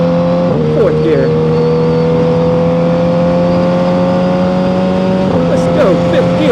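A Suzuki GSX-R1000R engine pulls hard through the gears on a highway, its loud, steady drone climbing in pitch before a brief dip at a shift near the end, with a rider talking over it and wind noise throughout.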